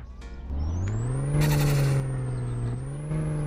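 Turbocharged EDM car in My Summer Car, engine droning low with a rising whistle, then a loud hissing blow-off burst, followed by steady running at close range.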